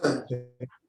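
A single sneeze during a chemistry tutoring session, a short explosive burst followed by a quick tail-off, close and fairly loud.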